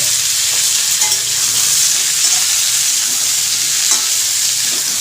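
Green chillies frying in a pan are stirred through a steady loud sizzle and hiss, with soft scraping of the spoon running under it throughout.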